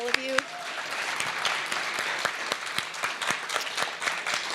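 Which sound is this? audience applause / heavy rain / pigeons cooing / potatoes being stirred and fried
audience applause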